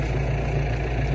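A farm tractor idles steadily nearby, a low, even engine drone with no speech over it.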